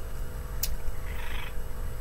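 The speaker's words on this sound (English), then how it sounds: "this is my cat, this Pickle" A large pet cat gives a short meow that rises briefly over steady low room hum, with a softer second call just after. No one talks.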